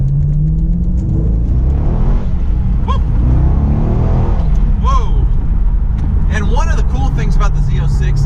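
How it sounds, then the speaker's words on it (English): A loud Chevrolet Corvette Z06 engine with factory titanium exhaust rumbles and revs nearby, its pitch climbing and falling in several bursts, with a voice talking over the roar. "it has a titanium exhaust from the factory, and it sounds really darn good"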